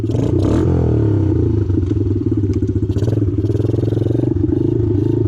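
Honda CRF110 dirt bike running with no air filter and no baffle, a loud, raspy engine close by, idling and blipping with a steady rough drone and some clattering.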